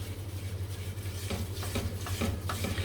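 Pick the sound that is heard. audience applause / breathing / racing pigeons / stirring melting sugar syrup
stirring melting sugar syrup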